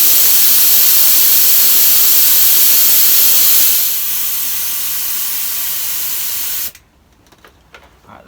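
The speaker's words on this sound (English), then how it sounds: "I'll get rid of a load of the air out of the tank" Compressed air blasts out of a workshop compressor tank in a loud, steady hiss that drops to a lower, quieter rush partway through, then cuts off abruptly, leaving faint clicks.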